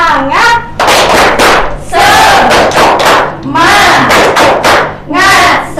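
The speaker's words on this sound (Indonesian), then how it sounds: "Tepuk semangat." A classroom of standing primary-school children performs a spirit clap chant, loud and close, with bursts of shouted group voices in rhythm alongside claps and thumps.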